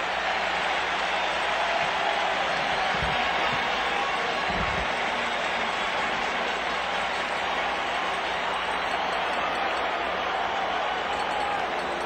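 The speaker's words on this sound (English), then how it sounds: "Crowd comes up for it." A baseball stadium crowd at a 1986 NLCS playoff game between the Mets and Astros roars in a steady, loud, sustained swell of cheering without a break.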